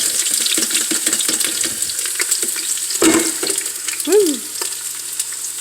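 Onions frying in melted butter inside an Instant Pot, a steady close crackling sizzle with scraping and clattering stir strokes, plus a brief squeaky rise near the end.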